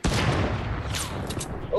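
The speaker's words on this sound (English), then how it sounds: "Oh, I'm getting sniped at." Sniper rifle fire in a Fortnite match, a loud crack followed by dense rolling gunfire and echoing booms filling the short stretch, with game noise underneath.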